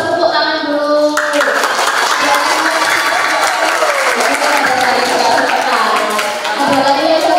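Schoolchildren in a sixth-grade class clapping together, loud and sustained with no letup, with some voices mixed into the applause.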